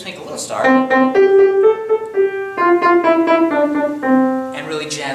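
Piano plays Twinkle Twinkle Little Star with a jazzy left-hand pattern: clear melody notes in a steady rhythm over moving bass chords, close and fairly loud, with brief talking at the start and end.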